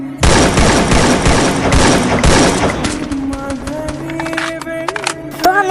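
Shooter video game gunfire: a dense burst of rapid automatic shots, loud and continuous for about three seconds, then fading into scattered game sounds and tones.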